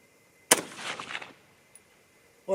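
A single sharp 6.5 Creedmoor rifle shot firing a Hornady 129-grain or Sierra 120-grain load, loud and close, its blast decaying over about a second before a brief later noise.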